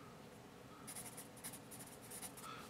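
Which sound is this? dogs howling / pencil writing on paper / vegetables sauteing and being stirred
pencil writing on paper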